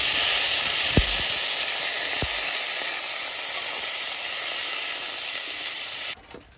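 Onion and garlic fry in hot oil, giving a loud, steady, close sizzle with two brief knocks early on, then an abrupt drop near the end.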